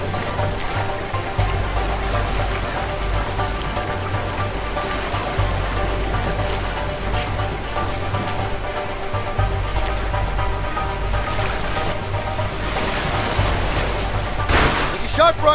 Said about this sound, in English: Hey, watch out. Some rough streams up ahead.